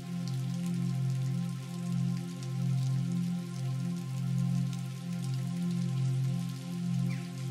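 Steady rain patters and hisses across the whole stretch, heard beneath a loud, slowly swelling musical drone that rises and falls in even waves.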